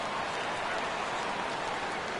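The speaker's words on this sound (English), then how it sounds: "Rain continues to fall here in the 6th." Steady rain pours over a ballpark in the baseball video game MLB The Show, an even, continuous hiss that holds at a constant level without a break.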